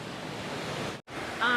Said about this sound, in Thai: น้ำตกเอราวัณนะ